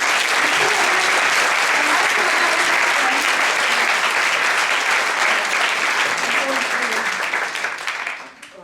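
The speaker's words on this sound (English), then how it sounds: "Please give them a round of applause." Loud, dense audience applause from a crowd at a university lecture event, steady clapping throughout that fades out near the end.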